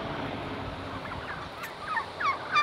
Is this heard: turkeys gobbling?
yes